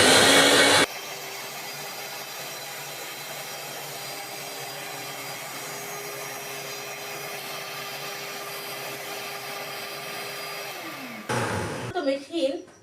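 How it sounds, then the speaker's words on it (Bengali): A kitchen blender churns milk cream into butter for ghee, a loud steady whir running for about ten seconds before winding down, followed by brief clattering handling noise. "মেশিন অন এবং বন্ধ করে আবার কিছুটা রেস্টে আবার চালু করে এরকম করে আপনারা ব্লেন্ড করবেন"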